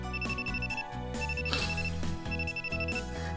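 A mobile phone ringtone plays in a visual novel video game, a bright repeating electronic melody in short phrases that loops several times at moderate volume, with no talking over it.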